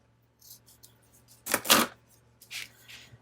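Scissors snip through lace trim for a journal craft, giving a few close, crisp cuts with a louder pair of snips in the middle and softer rustling around them.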